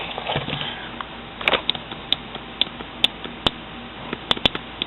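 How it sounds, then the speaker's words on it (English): Sharp, irregular snapping clicks from the rear axle of an Axial XR10 RC rock crawler with a broken final drive gear and heavy side play, close and isolated over a faint whir. "That weird snapping sound? Just off the rear axle."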